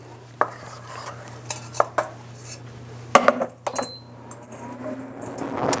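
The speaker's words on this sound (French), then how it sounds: "on va mélanger sans cesse de façon à ce que notre pâte à choux" A spoon works choux pastry dough in a pan over medium heat, giving irregular knocks and scrapes against the metal with quiet gaps between them and a low steady hum beneath.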